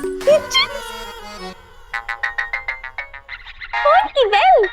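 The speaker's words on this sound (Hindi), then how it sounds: "फोन की बेल।" A phone ringtone plays as a string of rapid, evenly spaced electronic chirps in a TV comedy scene, set between bursts of animated talking and shouting.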